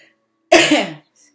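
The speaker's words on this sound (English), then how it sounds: "Excuse my cough." A single sharp, close cough bursts out once and stops within half a second, with near silence around it.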